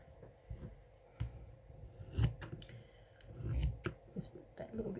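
Fabric scissors make a few scattered snips and rustling cuts through material up close, quiet and irregular, with soft handling sounds between the cuts and no talk.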